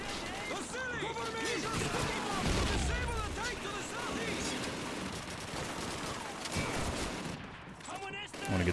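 Machine gun fire in the 2005 shooter Call of Duty 2, dense sustained bursts of automatic gunfire with crashes and booms, loud and continuous throughout, with a voice talking over the battle.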